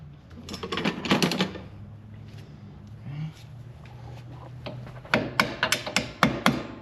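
A small hammer taps lightly in two quick bursts of sharp, close knocks, with a quieter stretch of faint handling noise in between, during a rear disc brake conversion on a 1966 Ford Mustang.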